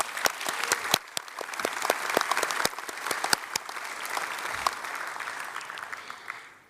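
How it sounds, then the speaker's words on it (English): An audience at a university graduation ceremony in Brisbane applauds, starting with a few sharp, distinct claps that quickly swell into a sustained, even round of clapping before fading away. "I'd like to ask you all to join me in giving her a big round of applause."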